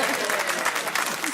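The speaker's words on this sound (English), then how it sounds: "And then exactly half the audience applauds." Part of a studio audience breaks into brief applause during a comedy news panel show, with a short burst of steady clapping lasting just over a second.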